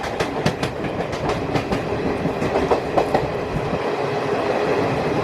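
The YUVA Express rolls along the rails with a steady rumble and rhythmic clickety-clack of wheels over joints, heard from inside the train.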